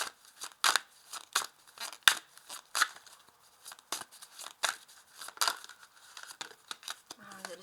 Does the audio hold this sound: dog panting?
no